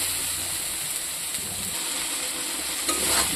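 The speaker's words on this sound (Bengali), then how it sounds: "দিয়ে আমি কিছুক্ষণ কষাবো।" Steady sizzling of spice masala with chilli powder and salt frying in a pan for fish curry, with continuous stirring scrapes and a brief louder splash of oil near the end.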